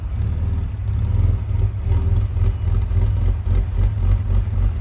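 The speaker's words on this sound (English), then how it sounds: "So you can now hear just the factory exhaust note" A Ford Ranger Raptor pickup truck idles on its factory exhaust with a deep, steady rumble, low throbbing pulses and slight fluctuations, heard close and fairly loud.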